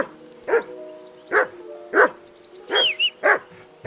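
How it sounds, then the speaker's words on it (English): A dog barking in the medieval game Kingdom Come: Deliverance II, five sharp close barks at uneven intervals over a quiet background. "Henry, whistle at that mutt of yours to stop barking."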